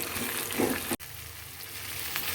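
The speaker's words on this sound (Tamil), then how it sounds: "நல்லா தக்காளி இந்த மாதிரி நல்லா வதங்கணுங்க" Tomatoes and onions sauté in a pan for a sundakkai kara kulambu, a close, even sizzle with light stirring that cuts out for an instant midway and then carries on.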